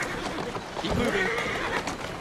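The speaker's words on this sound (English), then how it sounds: "Who's a good horse? You are." A horse in the Assassin's Creed Syndicate video game neighs once with a short whinny, heard amid game background sound and faint hoof clip-clops, moderately loud.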